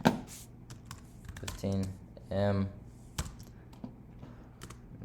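Computer keyboard typing in short bursts of soft clicks and taps, close and quiet, with someone talking over and between the keystrokes.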